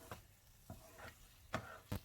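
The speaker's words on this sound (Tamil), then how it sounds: "இப்போ ஒரு 1/2 நிமிஷத்துக்கு இந்த மாதிரி நல்லா கிளறி விட்டுக்கலாம்" Pumpkin halwa (kashi halwa) cooking in ghee is stirred in a pan, heard as four faint, short spoon scrapes over a soft low sizzle.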